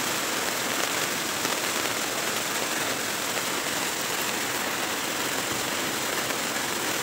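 Steady, dense rain pours down without a break, a constant broadband hiss with a low rumble underneath and no voices.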